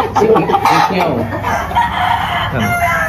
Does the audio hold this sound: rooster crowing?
yes